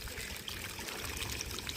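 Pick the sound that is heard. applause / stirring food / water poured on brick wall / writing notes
water poured on brick wall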